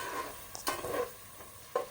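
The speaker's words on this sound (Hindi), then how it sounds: "इसको अच्छे से भून लेंगे" Chopped tomatoes sauté in a pan with a soft sizzle under a few short scraping stirs of a spoon, faint and close.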